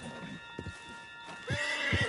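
A horse in the video game Red Dead Redemption 2 snorts and whinnies briefly while hooves clop in a quick rhythm underneath, close and steady over about two seconds, with no talk.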